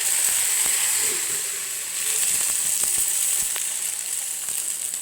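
Appam batter sizzles steadily in a hot pan, a bright continuous hiss close by, with a few faint clicks of a utensil.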